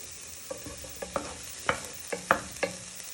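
Ingredients for spicy rice are stirred in a hot frying pan. A spoon scrapes and knocks against the pan in several distinct strokes over a steady, close sizzle.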